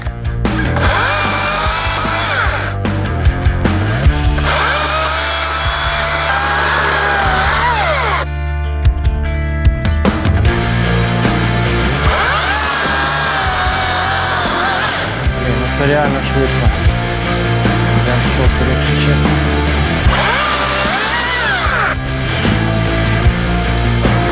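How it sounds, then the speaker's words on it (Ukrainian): A GTM 56V cordless battery power tool cuts branches with a loud, close, whining motor that revs and drops in bursts, pausing briefly midway, while people talk over it. "пообрізаємо гілочки, а потім будемо пиляти"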